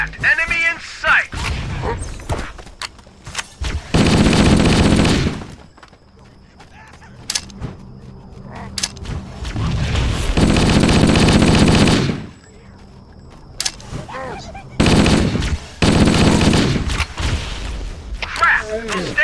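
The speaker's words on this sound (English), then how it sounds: "Those stationary guns are gonna tear us to pieces!" Heavy automatic fire from stationary gun turrets in the Halo video game, loud sustained bursts of rapid gunfire lasting several seconds each, separated by quieter gaps with shouted voices and scattered single shots.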